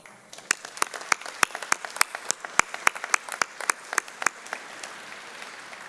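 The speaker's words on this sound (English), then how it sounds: "Please join me in saluting our faculty with a round of applause." A round of applause at a university spring commencement ceremony, made of sparse, distinct claps that ring out clearly over a soft background of scattered clapping for about six seconds.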